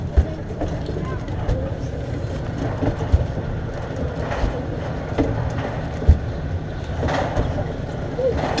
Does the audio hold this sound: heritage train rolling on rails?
yes